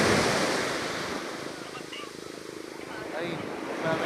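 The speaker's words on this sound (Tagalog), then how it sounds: "Lakas ng alon no?" Strong ocean waves breaking at a beach in San Felipe, Zambales, a loud continuous surf roar with wind buffeting the microphone and voices faintly under it.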